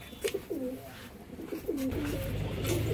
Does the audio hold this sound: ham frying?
no